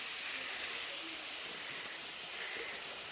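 Onions frying in oil in a pan, a steady close hiss of bright sizzling noise that holds evenly throughout without a break.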